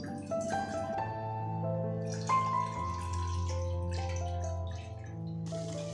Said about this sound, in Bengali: গ্যাসে পাত্র বসিয়ে